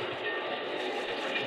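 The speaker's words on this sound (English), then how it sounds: "as the train pulled out" A train pulls out of a station as a radio-drama sound effect, with a steady, dense rumble of rolling wheels and carriage noise heard alone and fairly loud throughout.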